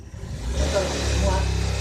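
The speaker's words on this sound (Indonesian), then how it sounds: "tolonglah motor pindah di sini aja, majuin motor" A motorbike engine idles and then revs up low and close as the bike is pushed forward, a steady throbbing rumble filling the whole moment, with voices in the background.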